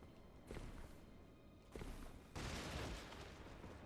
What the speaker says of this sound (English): that's the explosion I was talking about